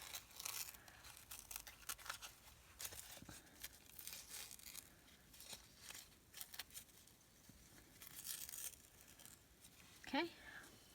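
Napkin and notepaper being cut with scissors and ripped by hand, faint close crinkles, snips and tearing rustles continuing under quiet talk.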